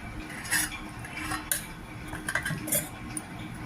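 A spoon stirs tempering into bottle gourd chutney seasoned with asafoetida, scraping and clinking against the bowl in a few sharp metallic taps and rattles. It is close and clear, with no talking.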